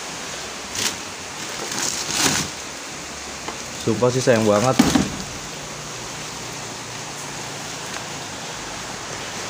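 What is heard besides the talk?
heavy rain outside an abandoned house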